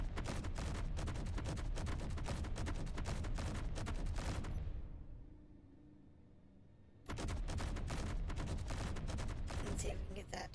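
Rapid turret gunfire in Space Engineers, a dense, continuous burst of loud, close shots that stops for about two seconds, then resumes at the same fast rhythm, with no talk.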